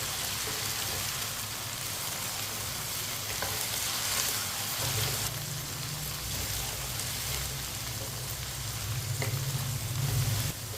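Diced potatoes and okra for aloo bhindi fry together in a pan, giving a steady, close sizzle with soft stirring scrapes that runs for the whole stretch and swells a little louder toward the end.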